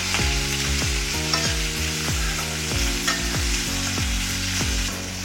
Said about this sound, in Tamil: ஆனியன் டிரான்ஸ்லூசன்ட் கலருக்கு வர அளவுக்கு இதை வதக்கிக்கோங்க